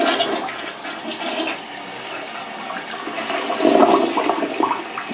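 A hotel room toilet at an extended-stay hotel flushes and then keeps running, a steady rushing and trickling of water that carries on without stopping, close by with no talk.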